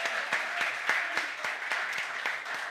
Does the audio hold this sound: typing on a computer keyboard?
no